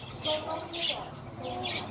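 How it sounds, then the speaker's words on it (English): Budgies kept for sale in a village chirp and twitter in quick high bursts, close and fairly clear over a murmur of background noise. "no, not parrots, sorry, it's a budgie."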